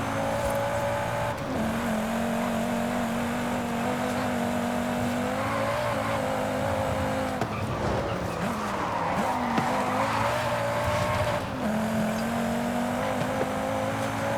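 A 600-horsepower Volvo C30 Polestar in Forza Horizon 5 slides through a corner, its tires squealing in long wavering tones over a steady, loud engine drone that rises and falls as the car drifts.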